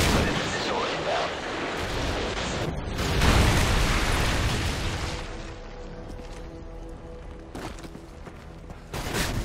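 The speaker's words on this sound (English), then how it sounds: "Friendly predator missile inbound." Explosions and heavy gunfire from a predator missile strike in Call of Duty Modern Warfare 3 multiplayer, a loud booming burst around the middle followed by scattered shots and a fading rumble, with game announcer voice lines.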